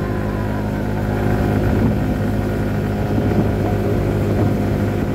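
A Lance 150 motorcycle engine labouring uphill on a road trip, a steady droning roar that holds loud and close throughout with no talk.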